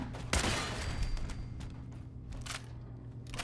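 Gunfire in Fallout 4, a sharp close burst of shots followed by a few more scattered cracks and decaying rumble, loud at first then fading under background game ambience.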